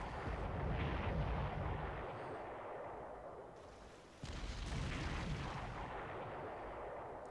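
Naval shelling from the German cruiser Blücher in the Panzer Corps strategy game, Norway campaign: a sustained, heavy rumbling barrage with a sharp renewed burst midway, loud and continuous with no talk.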